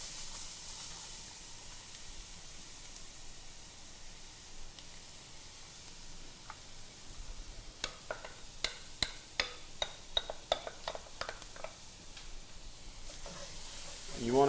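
Onions go into a roux in a heavy-bottomed pot for crawfish étouffée, giving a soft, steady sizzle with a quick run of sharp spoon-and-pot clicks partway through.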